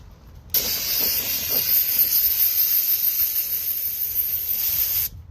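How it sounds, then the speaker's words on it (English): A continuous aerosol brake cleaner spray hisses loudly for about four and a half seconds, starting and stopping abruptly, during a 2022 Toyota Corolla front brake pad and rotor replacement. "spray and wipe it off"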